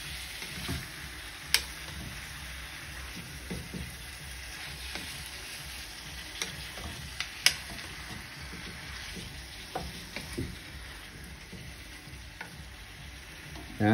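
Deer meat sautéing in a pan for adobo, a steady frying sizzle with scattered stirring scrapes and small clicks throughout, close and moderately loud with no talking.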